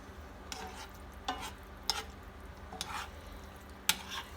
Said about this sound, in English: And corned beef is heating up.